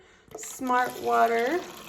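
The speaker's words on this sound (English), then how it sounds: "I'm gonna pour some, let's see, we'll do smart water" Smart Water is poured into a cup holding a green tea bag, a short trickling pour whose tone rises as the cup fills, close by and quiet.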